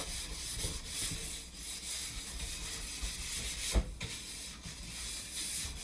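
Steady brushing strokes scrub glide wax from the base of a skate ski, a continuous rough hiss of bristles over the ski with one sharper knock partway through.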